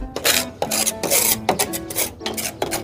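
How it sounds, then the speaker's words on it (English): A scraper rasps moss off a rooftop in repeated rough strokes, roughly six sharp scraping passes in quick rhythm, close and loud. "Let's see how the roof is. If it comes off with the scraper."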